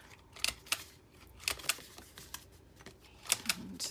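A corner rounder punch trimming the corners of journaling cards makes a series of crisp, quiet clicks and snaps, often in quick pairs, over a faint background hiss.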